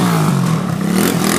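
A 125cc pit bike motorcycle engine revs hard and close, a loud continuous buzzing drone with rising and falling pitch, heard alone with no talk.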